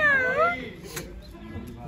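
A cat at a desi farm house gives one clear meow near the start, close and fairly loud, followed by quieter background sounds.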